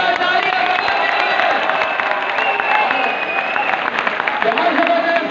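Second-year students in a college audience at a poetry recitation competition applaud and cheer in a dense, steady wash of clapping, with crowd voices mixed in.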